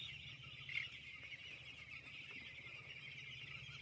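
Broiler chickens in a poultry shed during winter, a faint continuous murmur of clucking and calls from the flock, with one slightly louder call early on.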